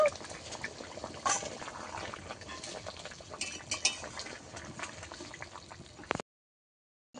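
Cumin-spiced fish curry with flat beans simmers in a pot, a soft continuous bubbling and liquid churning with occasional clinks of a utensil against the pot, close by, ending abruptly into silence.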